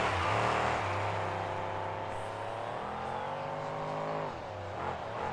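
A monster truck's engine revs loud and close during a KORR Monsters freestyle finals run, with sustained roaring harmonics that rise and fall as it wheelies over a semi-trailer.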